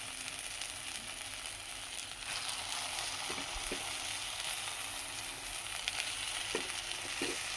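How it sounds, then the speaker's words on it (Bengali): Fish with its fat and roe fry in oil in a pan on a gas stove, a continuous close sizzle with a few soft clinks and stirring knocks scattered through it and no talking. "আর বেশি ভাজবো না, ভাজা হয়ে গেছে। এবার মাছের তেলটা দিয়ে দেবো।"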